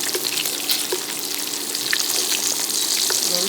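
Rosemary hits a hot skillet of salmon in avocado oil, giving a steady bright sizzle with faint crackles and small pops throughout, close and alone with no talking.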